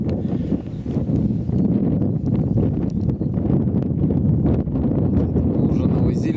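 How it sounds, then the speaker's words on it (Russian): Very strong wind gusting steadily across an open site spread with limestone gravel, buffeting the microphone in a loud, continuous roar with someone speaking over it. "Дует очень сильный ветер."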